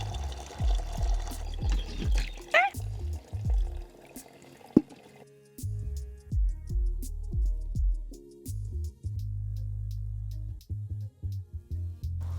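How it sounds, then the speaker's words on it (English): Pine cone dye is strained through muslin cloth into a 5-gallon bucket, liquid pouring and splashing in several separate bursts with drips and gurgles between them, close by, plus a sharp knock midway. "I strained the dye through some muslin cloth into a 5-gallon bucket."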